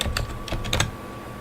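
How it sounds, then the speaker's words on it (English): Brief burst of typing on a computer keyboard, a handful of quick close clicks in the first second followed by quiet room tone. "I am typing it in right now."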